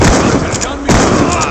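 A video game blast grenade is tossed and detonates, a loud, close burst of noise with a brief lull before a second sharp impact, heavy and dense throughout.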